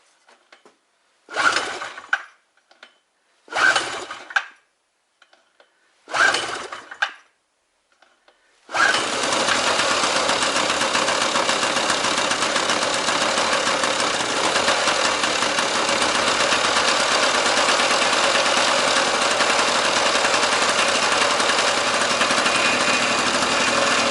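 A petrol generator that had been producing nearly 400 volts is pulled three times with short cranking bursts, then starts and runs at a steady, loud idle for the rest of the clip, without speech.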